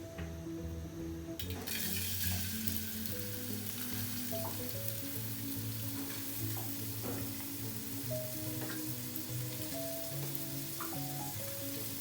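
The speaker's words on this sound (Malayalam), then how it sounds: "ആ വെളിച്ചെണ്ണയിലേക്ക് നമ്മൾ നമ്മുടെ സവാള വെട്ടി വെച്ചതില്ലേ, അത് നമ്മളതിലേക്ക് ഇടുക." Chopped onions sizzle and fry in hot coconut oil, a steady close crackle with occasional stirring scrapes and a faint tap-water trickle, set against a continuous low hum, with no one speaking.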